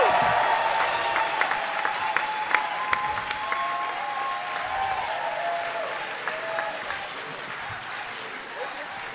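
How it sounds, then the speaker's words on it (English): A convention panel audience applauds and cheers for Karen Ashley, a dense, steady wash of clapping with whoops and shouts rising through it, sustained evenly from start to end with voices mixed into the crowd noise. "Ladies and gentlemen, start clapping your hands right now"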